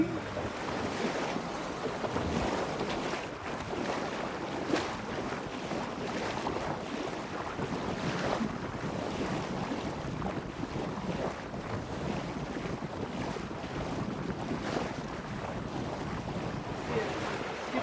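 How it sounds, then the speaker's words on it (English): Steady wind rushes past the microphone aboard a sailboat on a beam reach, with wave and water sounds from the hull mixed in, continuous and fairly loud the whole time, with no talking. "And we have the wind right on the beam, so that's nice. Nice breeze for sure."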